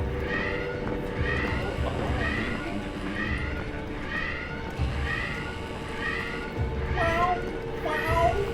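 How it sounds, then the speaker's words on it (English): A cat-like creature in the Outer Worlds 2 video game yells in a run of wavering, repeated cries over constant game ambience, rising and falling at a fairly even pace and growing louder and sharper near the end. "It sounds like a cat yelling"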